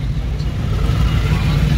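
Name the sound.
car engine accelerating uphill with half clutch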